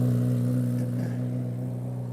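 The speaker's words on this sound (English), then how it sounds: "This is the new Z06 with the flat plane crank V8, as you can hear" A new Chevrolet Corvette Z06 flat-plane crank V8 idles close by with a steady, droning hum, holding at one pitch throughout without any sharp revs.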